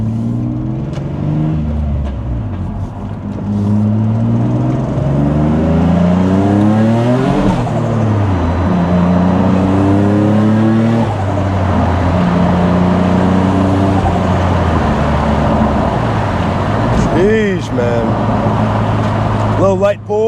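A heavily modified Nissan 350Z accelerates hard in several rising engine pulls through the gears, loud and close, with tire spin on a cold surface, and a voice briefly heard near the end.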